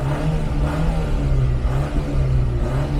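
The engine of a 1982 Opel Kadett 1.2 estate runs loud and close with a continuous, dense rumble and revving. Nothing else is heard over the engine.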